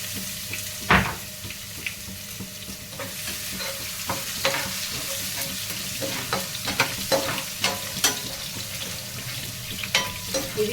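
Coarsely crushed garlic cloves fry in hot oil with tempering spices for a Telugu fenugreek-leaf curry, giving a steady sizzle broken by scattered stirring clinks and scrapes from a spoon against the pan.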